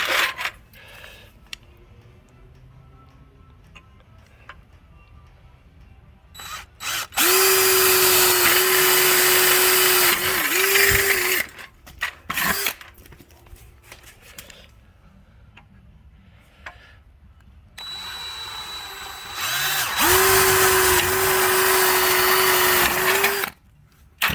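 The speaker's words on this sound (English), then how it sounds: "we're gonna drill a couple more" A power drill whines loudly in two long steady bursts, drilling holes in an RV's aluminum roof for aluminum rivets, with quieter clicks and handling noises between them.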